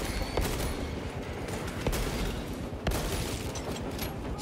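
Carbine fire in Warhammer 40K: Space Marine 2, a few sharp cracking shots standing out over a dense, roaring wash of battle noise that fills the whole stretch.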